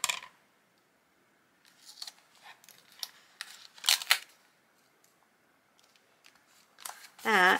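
Scissors cut paper for a junk journal built from a Little Golden Book, giving a few faint, quiet snips and rustles spread across the stretch with a louder snip near the end.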